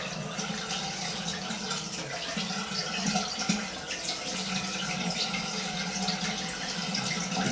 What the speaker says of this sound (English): Close those pores with some cold water.